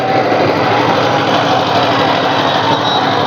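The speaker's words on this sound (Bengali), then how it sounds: "দুটি নৌকায় যেন রকেটের গতিতে এগিয়ে যাচ্ছে" Racing boats in a Bengali boat race, engines roaring steadily at high speed, a loud continuous motor drone that fills the whole stretch with no talk.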